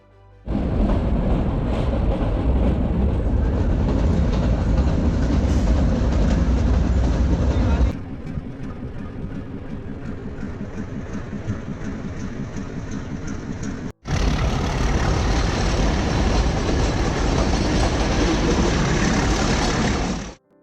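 A meter gauge train running through Gir Forest rumbles loudly and continuously with a low rattle of wagons, the sound dipping briefly midway then returning at full strength.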